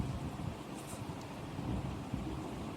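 Thunderstorm with steady rain and low, rolling thunder rumbles, fairly faint, with a continuous wash of wind and rain throughout.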